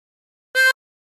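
One short blown note from hole 9 of a 24-hole tremolo harmonica, a brief reedy tone with a faint beating warble, isolated in otherwise silent surroundings.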